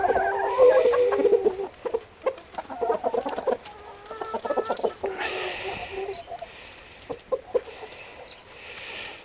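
A flock of chickens clucks and chatters nearby in irregular bursts, some birds louder and closer than others, with a few sharper calls mixed in and no talking.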